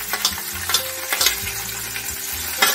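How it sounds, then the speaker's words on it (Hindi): Green onion and onion frying in hot mustard oil with panch phoron, a steady close sizzle broken by several sharp scraping stirs of a spatula across the pan. "अब हम इसमें हरा प्याज"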